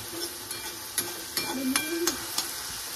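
Ground coconut masala roasts in a pan with a soft sizzle, while a spoon scrapes and stirs in a few sharp, irregular knocks close by.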